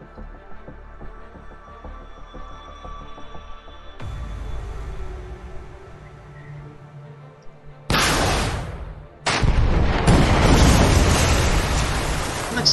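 Weapons fire and explosions in the war game Command: Modern Operations, beginning with a low rumbling hum, then two loud broadband blasts of roaring noise, the second sustained and filling the rest of the stretch.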